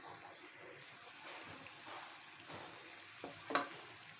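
Sugar syrup for ghee Mysore pak simmering and bubbling in a pan as it is stirred, a steady soft sizzle with faint scraping and one brief louder clink near the end.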